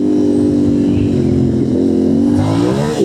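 Motorcycle engine on a forest training ride, a loud close steady drone with rising and falling pitch as the throttle changes, continuous throughout without speech.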